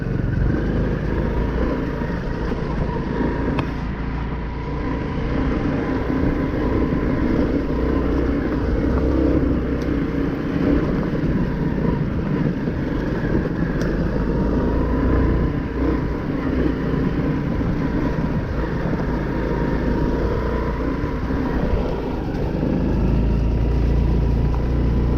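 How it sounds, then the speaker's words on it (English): Honda Cross Cub 110 motorcycle ridden while held in second gear, its small engine producing a steady, continuous drone with wind rush. "I'm holding the bike in second gear."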